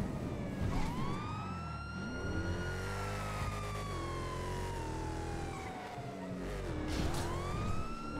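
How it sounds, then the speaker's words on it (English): Police car sirens wailing in a roleplay video game, a continuous loud rising and falling siren with engine noise beneath, sustained throughout with no talk. "Turn your sirens off, please."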